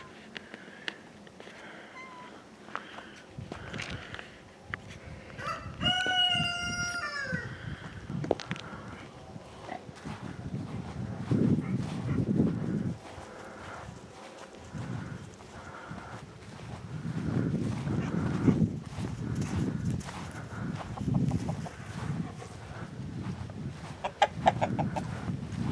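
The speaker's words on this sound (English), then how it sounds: "We're going to start out at the chicken house first" Chickens at a homestead chicken house in mid-October autumn cluck and call in a steady outdoor murmur, with a brief rising crow-like call near the start and continuous low rustling throughout.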